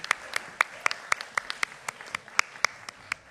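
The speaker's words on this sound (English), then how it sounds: "Big round of applause." Scattered applause from an evening church gathering's audience at Christ the King, individual claps standing out sharply and unevenly, moderately near, with no talk over them.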